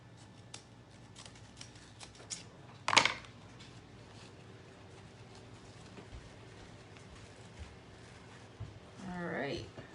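Scissors snip through a chalk transfer sheet in a short close burst of crisp cuts, with quieter handling rustles around it and a brief voice near the end.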